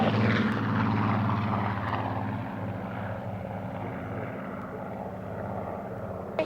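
A propeller plane passes at the RAF Waddington Airshow in 2006, its engine drone steady and throbbing, fairly close at first and then slowly easing off, with no voices.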